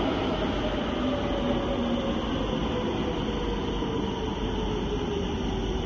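A Rotterdam metro train runs with a constant, even roar and hiss, steady and moderately loud throughout, with no talking.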